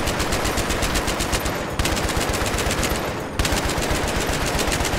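Dense, continuous machine-gun fire from the video game Battlefield 3 multiplayer, loud and close, with rapid steady bursts broken by two brief pauses.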